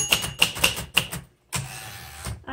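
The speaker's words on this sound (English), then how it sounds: "this is a great little everyday typewriter" Typing on a 1960s Royal 890 portable typewriter produces four crisp, close keystrokes in an uneven rhythm, followed by a short pause and then a longer mechanical rattle and a final clack.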